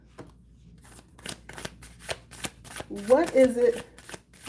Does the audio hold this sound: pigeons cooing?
no